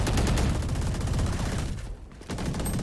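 Continuous rapid gunfire from the tactical shooter Valorant, loud and close, with a brief dip in the shooting before the bursts pick up again.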